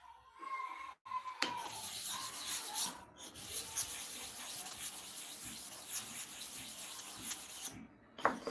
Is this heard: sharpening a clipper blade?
yes